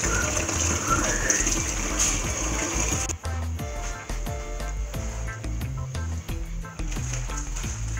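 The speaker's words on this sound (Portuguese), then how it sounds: "você tem que lavar os morangos." Strawberries being washed under a running tap, a steady loud gush of water with clattering handling noises as the berries are rubbed and moved, close up and continuous.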